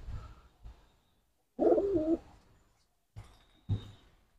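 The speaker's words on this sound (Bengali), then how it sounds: "এ হচ্ছে পর পায়রা" A pigeon coos at a loft in Kolkata, a few soft low warbling calls close by with quiet gaps between them, no talking.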